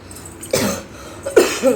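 Two close, harsh coughs with a pause between them, followed by a smaller throaty sound.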